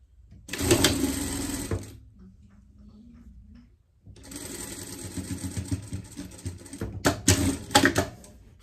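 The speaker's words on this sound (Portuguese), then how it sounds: "Aqui a gente vai tirar os nossos alfinetes e vamos passar uma costura aqui para prender aqui." A sewing machine stitches a seam to hold the fabric of girls' panties. A fast clattering run is followed by a pause with a faint hum, then a longer stitching run that speeds up and stops in spurts, all close up.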